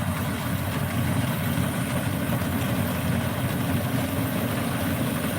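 A combine harvester's engine drones steadily and loudly while harvesting Ciherang rice, a continuous low mechanical rumble with no break throughout.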